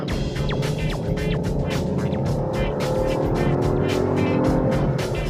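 A Citroen Basalt turbo petrol engine with automatic transmission revs up hard through several gear changes on a straight road, the pitch climbing and dropping in repeated surges, loud and close.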